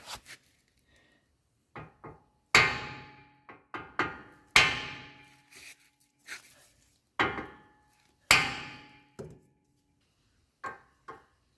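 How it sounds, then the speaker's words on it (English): Metal hammer blows knock a ball joint out of a car's steering knuckle: a dozen or so sharp, loud, close strikes in irregular bursts, with short pauses between groups. "So I'll just use old school hammer way, just hammer it out."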